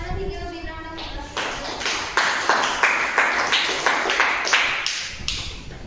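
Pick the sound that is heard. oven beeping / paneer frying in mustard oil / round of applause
round of applause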